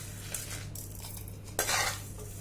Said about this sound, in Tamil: அதை நம்ம வெறும் கடாயில் போட்டு நல்லா வறுத்து எடுத்துக்கலாம்.